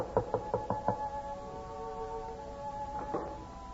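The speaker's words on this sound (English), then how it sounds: "Who knocks at this hour?" Knocks rap on a door at night, five quick sharp thuds in a row, then a pause and a couple more knocks, with a low hum in the background.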